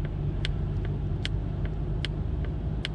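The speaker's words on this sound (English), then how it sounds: "I don't like that turn signal sound." Turn signal in a Polestar 2 or Volvo XC40 ticking at a steady, even rhythm inside the cabin, crisp clicks roughly every 0.4 seconds over a constant low road and car rumble, no talk.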